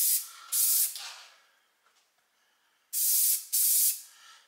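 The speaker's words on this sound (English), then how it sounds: "This is just some Krylon Rust Protector Gloss Enamel." Krylon Rust Protector Gloss Enamel is sprayed from an aerosol can onto a part of a 1968 Pontiac GTO front end, in two short bursts, then a pause, then two more close hissing sprays.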